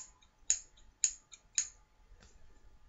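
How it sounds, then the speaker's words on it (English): Scissors snipping through Christmas wrapping paper: three crisp, close cuts at a steady pace, then a softer fourth snip, in an otherwise quiet room with no talking. "you'll hear a lot more cutting sounds like this"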